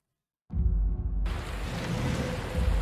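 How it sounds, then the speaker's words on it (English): Rain in Skyrim at night, a steady dense wash that starts abruptly after a silent half-second, with deep rumbling low end like distant thunder, loud and continuous with no talk. "Oh, it's still raining"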